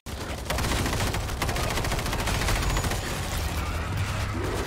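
An auto turret machine gun fires continuously in the zombie shooter World War Z, a loud rapid unbroken stream of shots after a brief start, with heavy low rumble beneath.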